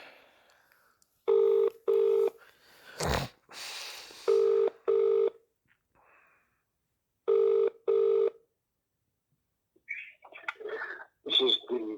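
A telephone dials out and then rings, with several short electronic tone bursts arriving in evenly spaced pairs, a brief noisy clatter between them, and faint voice-like sounds near the end.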